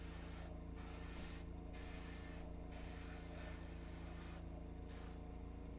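An airbrush sprays Vallejo Metal Color copper paint in a continuous steady hiss, broken by several short pauses, up close with no talking.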